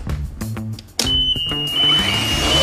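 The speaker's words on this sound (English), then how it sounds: "Life Buoy has a very powerful alarm" A piercing electronic alarm tone from a Life Buoy pool alarm starts abruptly and holds steady and loud, following a few seconds of clattering household noise.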